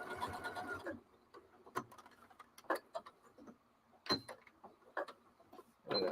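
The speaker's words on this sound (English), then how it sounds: "You can sew right over a pin." A sewing machine stitches over a pin in short, separate bursts of ticking, clicking needle strokes with quiet gaps between them, after a brief busier run at the start.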